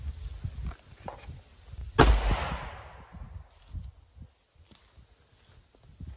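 A Winchester Defender 130 grain 38 Special +P round fires into a ballistic gel block wrapped in four layers of denim from about five feet away, one loud sharp report with a ringing decay amid quiet room noise.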